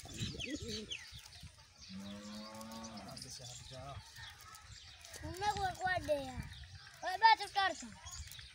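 Pigeons cooing in soft, repeated throaty calls nearby, with a few separate bursts standing out against quiet background.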